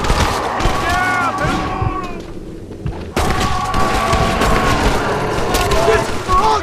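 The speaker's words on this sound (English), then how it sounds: "Stop shooting at me!" Gunfire in the zombie Western game Red Dead Redemption: Undead Nightmare, a loud, dense barrage of shots and booms that drops off briefly midway, then resumes, with shouted voices mixed in.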